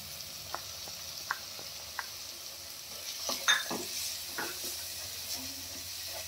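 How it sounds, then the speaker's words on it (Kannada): Grated paneer frying in a pan with a soft, steady sizzle, broken by scattered clicks and scrapes of a spoon stirring, louder stirring around the middle, heard close with no talk. "ಈಗ ಇದಕ್ಕೆ ತುರಿದಿರೋ ಪನ್ನೀರ್ ಹಾಕೊಳ್ಳೋಣ."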